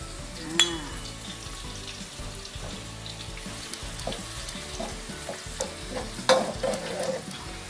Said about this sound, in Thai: น้ำมันร้อนแล้วนะคะใส่กระเทียมที่เราโขกไว้ลงไปเลย